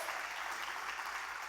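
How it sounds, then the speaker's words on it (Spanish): Sustained applause from a church congregation during a service, a steady dense wash of clapping filling the whole moment at moderate loudness with no voice over it. "den un aplauso a él"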